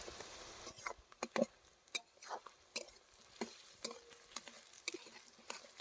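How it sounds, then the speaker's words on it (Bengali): Onions being fried in a pan until lightly reddened, stirred with a utensil: quiet, irregular scraping and tapping strokes over a faint background sizzle, close by and with no voices. "পেঁয়াজগুলোকে হালকা লাল করে ভেজে নেব।"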